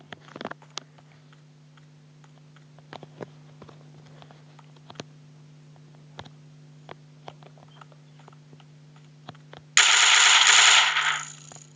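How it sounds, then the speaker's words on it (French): A modded Minecraft PE game plays scattered sharp clicks over a steady low hum, then a submachine gun fires one dense, loud burst that lasts about two seconds near the end. "On passe au pistolet mitrailleur."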